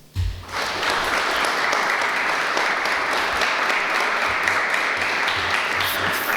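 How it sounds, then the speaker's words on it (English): An audience at a police cadet graduation ceremony breaks into loud, sustained applause that starts abruptly and continues evenly, many hands clapping together in a large room. "We applaud you, Shanice."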